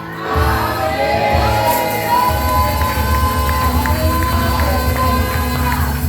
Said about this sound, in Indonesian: Sekali lagi boleh berikan sorak-sorai yang paling dahsyat buat Tuhan